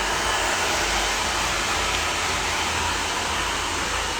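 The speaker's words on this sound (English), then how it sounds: "So here's how we'll do the blow dry. We're just gonna do a quick rough dry." A hair dryer rough-drying a woman's long layered hair with curtain bangs during a salon haircut, a loud, constant close-up rushing whoosh with no breaks and no talking.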